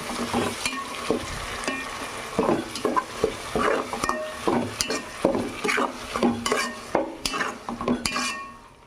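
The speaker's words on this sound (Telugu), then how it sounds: "గోంగూర వేసుకొని బాగా కలుపుకుందాం." Gongura leaves stirred into a hot pan for pachadi, a spoon scraping and clacking against the metal in uneven strokes over a steady low sizzle, close and clear with no talk.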